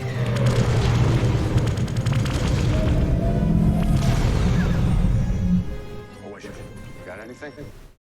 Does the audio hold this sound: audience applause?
no